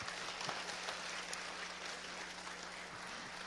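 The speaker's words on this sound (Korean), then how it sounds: "박수로 환영해 주시기 바랍니다" A concert audience gives a steady, dense round of applause to welcome the Korean Youth Symphony at a charity music concert for multicultural families, many hands clapping evenly with a faint low hum beneath.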